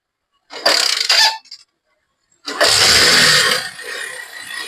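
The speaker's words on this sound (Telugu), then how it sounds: "దీన్ని కూడా స్టార్ట్ చేసి అయితే చూపిస్తున్నాను చూడండి వీడియోలో" A 2015 Bajaj Discover motorcycle kick-started, with a short engine burst that dies out, then after a pause a second start that catches into a loud, steady idle close by.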